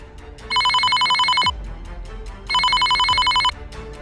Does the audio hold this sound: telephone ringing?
yes